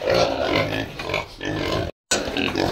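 A feverish farm pig that has stopped eating grunts and oinks close by in a series of low, rough calls, broken by a brief silent gap.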